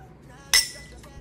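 A single bright clink of champagne glasses meeting in a toast, one sharp ringing tap that fades quickly, with a faint second touch just after, in a quiet room.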